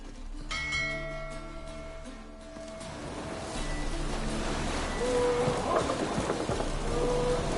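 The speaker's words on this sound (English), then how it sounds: "It's raining." Steady rain patters throughout with a low rumble beneath, while faint musical tones and bell-like chimes ring over it, in The Witcher 3: Wild Hunt on PS4.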